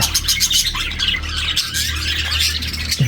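Many budgerigars chirp and twitter together in an aviary, a dense, continuous chorus of overlapping high calls with a few squawks, close and fairly loud throughout.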